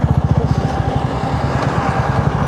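Motorcycles ridden in Mustang, among them an Xpulse, make a loud, close engine drone with a fast throbbing pulse that swells and eases slightly as the bike moves, with no voices.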